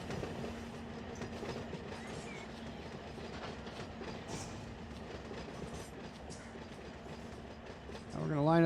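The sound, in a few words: freight train running in video game Run 8 simulator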